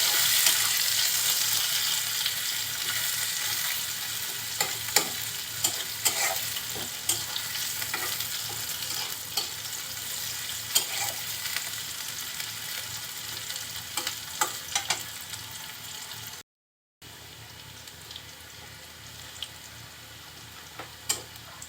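Chopped onion and garlic fry in hot oil for a pabda fish curry, steady close sizzle punctuated by frequent clicking stirs of a spatula against the pan, with a brief cut of silence near the end.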